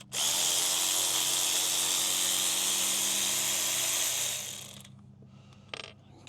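A socket wrench works on a Bayliner boat's fuel pump, giving a loud, dense, steady whirring rattle for about four seconds before fading, then a brief faint clink.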